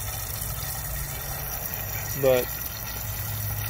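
Water pours steadily into a gardening bucket with a continuous rushing fill, and a voice cuts in briefly partway through.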